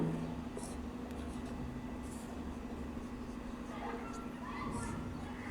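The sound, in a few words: drawing a chemical structure by hand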